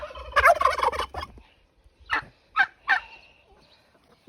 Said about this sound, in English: Turkeys are good. Mr. Tom is here showing off.